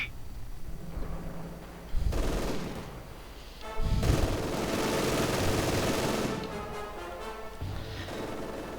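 Heavy machine gun fire rattles in a Company of Heroes 2 battle, with bursts of rapid shots and booming impacts amid a busy, layered war soundscape, fairly loud and continuous.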